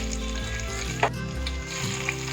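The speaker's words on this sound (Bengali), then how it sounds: "যে তেলটা আছে সেই তেলটার মধ্যে এবারে আমি দেব তেজপাতা," Bay leaves dropped into hot oil that was just used for light frying, giving a steady close sizzle with a brief sharper crackle burst near the middle, no voices.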